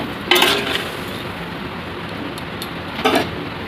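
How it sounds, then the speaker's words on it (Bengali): Chopped pineapple goes into a pan with sugar, heard as a metallic clink and scrape early on and a second clatter later, over a soft steady background hiss. "এবারে কেটে রাখা আনারসটা দিয়ে দেব।"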